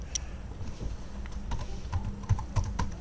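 Fingers tap steadily on a computer keyboard, close and clear, with irregular clicks and a few louder keystrokes over a low room hum.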